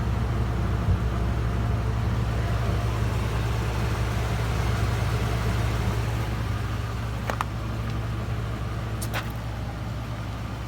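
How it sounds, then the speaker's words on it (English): A 2013 Ford F-450 utility service crane truck idles in a steady, even low rumble with a constant hum, close and unbroken, joined briefly by a couple of faint clicks near the end. "Motor sounds great. It's very quiet."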